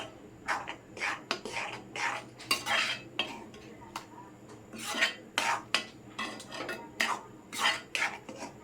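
Metal spoon scraping and clinking against a pot of curry in a steady series of short strokes, close by, with no voices.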